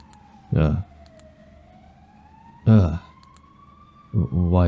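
An ambulance siren wails in the horror video game Cold Front, a steady rising and falling tone running throughout at moderate distance, while someone speaks in three short bursts over it.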